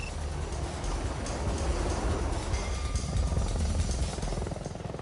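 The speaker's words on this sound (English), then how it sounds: "guiding in Apache attack helicopters to destroy Iraqi radars" Apache attack helicopters guiding in a strike on Iraqi radars, heard as a dense, steady rotor and engine roar with low throbbing pulses, loud and continuous for five seconds with no talking.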